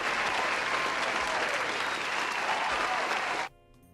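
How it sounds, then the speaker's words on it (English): A studio audience breaks into loud, sustained applause welcoming a guest, thick and continuous for several seconds before cutting off abruptly into near silence. "can I give you a round of applause, young man, for coming in here?"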